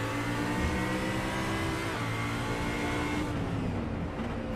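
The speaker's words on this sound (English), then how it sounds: "Nick Paquin here, trying to get as much of the draft as possible in his Audi" Audi GT3 race car at Watkins Glen, its engine loud and close, revving hard with a steady rising drone throughout, other cars faintly mixed in.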